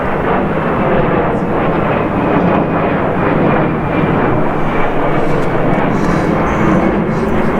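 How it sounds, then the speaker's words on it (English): A low-flying airplane passes close overhead near Tempe, Arizona, its loud engine roar rumbling steadily and evenly for several seconds without any speech. "you can almost grab these airplanes coming here"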